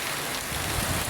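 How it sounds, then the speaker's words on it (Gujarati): Steady rain during a village storm in Gujarat, a dense continuous hiss of drops on surfaces, moderately loud and constant with no voices. "3 વાગ્યા છતાંય વાવાઝોડું વરસાદ ફરી ચાલુ થઈ ગયો."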